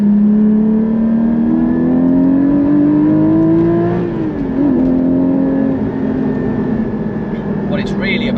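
A Porsche Cayman 718 GT4 with a manual gearbox revs hard, its loud, close engine drone climbing steadily in pitch, dipping briefly at a shift midway, then holding a sustained, buzzing howl to the end.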